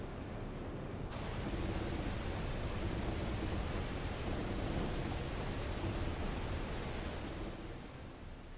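A waterfall roars in the Final Fantasy XIV video game, a dense, steady wash of broadband rushing noise that holds at an even level from start to finish.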